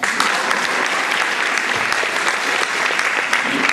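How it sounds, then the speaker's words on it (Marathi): Sustained applause from a workshop audience on saving the girl child in Dhule, dense steady clapping filling the whole stretch at an even, loud level with no voices on top. "आता टाळ्या वाजवा."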